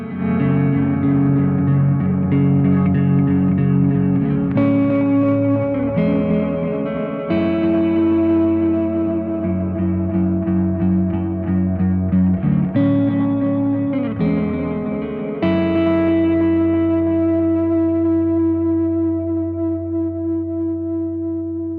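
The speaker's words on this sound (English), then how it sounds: "As the name implies, it's a very bubbly delay." Electric guitar played through a Boss GX-10 bubbly delay with space echo, natural amp, noise suppressor and boost: sustained clean chords and notes swelling into wobbling, repeating echo tails, loud and continuous with no talking.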